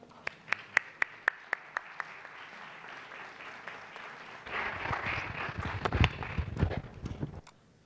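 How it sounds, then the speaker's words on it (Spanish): An audience at a seminar applauds as a professor is welcomed to the stage. A few sharp, isolated claps come first, then fuller applause swells and fades over low room noise. "Lo recibimos con un aplauso."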